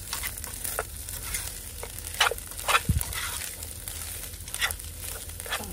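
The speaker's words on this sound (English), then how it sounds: "let that simmer for a minute, and then we're gonna plate." Rice simmering in a pan while cooking inside a minivan: soft, steady sizzle with scattered light crackles and pops, fairly quiet and close.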